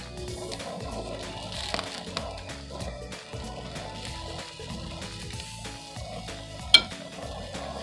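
Tomatoes and fish grill in a pan, with a steady sizzle and scattered scrapes and clinks as the tomatoes are flipped, one sharp knock standing out near the end.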